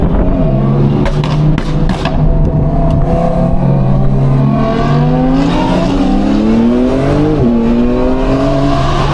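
Audi R8 with a straight-piped exhaust revving hard, a raw, loud engine roar that climbs and falls in pitch through several sweeps and crackles, heard close and continuous without speech.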